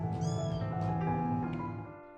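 Rescued cats and kittens meow repeatedly in a shelter, with several overlapping cries close by and steady throughout, fading slightly at the end.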